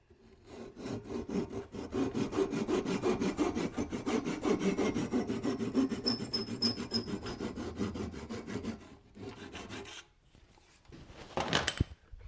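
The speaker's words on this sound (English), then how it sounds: "And I'll cut it pretty flush." Steady back-and-forth strokes of a hand saw cutting a wooden peg flush, rapid and rhythmic for several seconds, then a pause and a few short final strokes.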